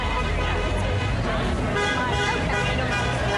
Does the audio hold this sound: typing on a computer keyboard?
no